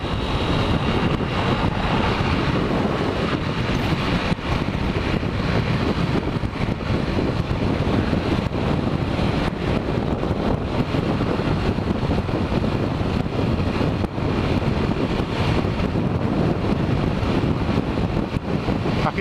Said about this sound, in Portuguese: Aqui também tá ventando bastante.